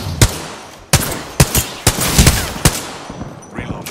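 Gunfire in the battle-royale game Apex Legends: about seven sharp, loud shots spaced roughly half a second apart, each with a short decaying tail, followed by fainter rustling toward the end.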